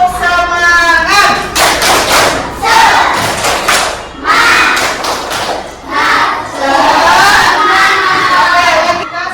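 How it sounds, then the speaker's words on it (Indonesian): A school classroom of children performs a tepuk semangat chant, loud group voices shouting in unison punctuated by rhythmic bursts of clapping and thumps, close and energetic with short pauses between phrases. "coba kita tepuk semangat dulu ya"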